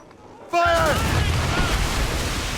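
Ship cannons firing during a naval battle in Assassin's Creed Rogue: a sudden loud blast hits, then a sustained rumbling roar of broadside fire and sea battle noise continues, while crew voices shout orders underneath.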